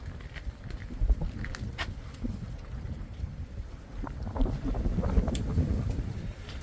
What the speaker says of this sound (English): That wind is just kicking.